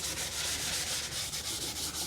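Sandpaper scuffs the freshly painted body of a FLY WING Bell 206 V4 RC helicopter, a close, steady rhythmic rubbing hiss with quick back-and-forth strokes, alone without talk.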